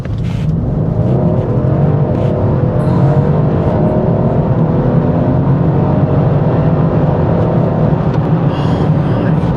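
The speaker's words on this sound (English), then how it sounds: "we're gonna have to really hit the throttle here to get moving" A car accelerating hard at full throttle, one of a collection of favourite cars, its engine a loud, continuous close-up roar and rumble that holds steady from start to finish with no break.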